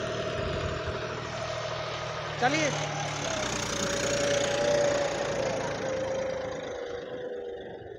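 A Sonalika Tiger 55 tractor runs a cultivator at about 1600 RPM, its engine a steady mid-low drone throughout, with a brief sharp clank near the start and someone speaking briefly over it.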